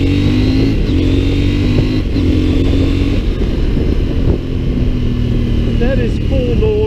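A CF Moto MT800 Explore motorcycle engine held at full throttle, a loud, continuous, strained roar with steady droning tones and a brief pitch shift near the end, heard up close with wind noise.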